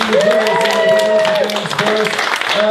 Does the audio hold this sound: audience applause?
yes